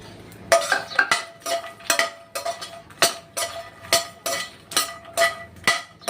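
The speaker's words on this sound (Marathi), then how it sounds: "मी पण ड्राय रोस्ट केलेले त्याला मी थोडंसं तूप घालते थोडेसे तुपावर भाजून घेते" Dry fruits and makhana roasting in a little ghee in a pan for dry fruit laddoos, heard as a steady run of close, rhythmic metallic scrapes and clinks of a spoon against the pan, with no talking.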